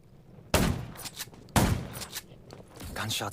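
Two sharp, loud gunshots go off about a second apart in the zombie open-world game Undawn, followed by fainter clatter and movement sounds.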